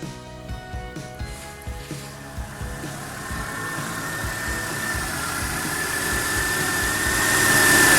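A Peugeot 207 car engine idles after a battery replacement with a rhythmic low knocking chug, and a rising whine builds as the revs climb steadily louder toward the end.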